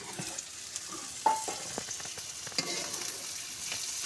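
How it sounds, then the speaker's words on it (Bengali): Onion, garlic and shrimp frying in a pan give a soft, steady sizzle with a few light stirring knocks, fairly quiet and without voices. "পেঁয়াজ, রসুন, চিংড়ি আমার ভাজা হয়ে গেছে।"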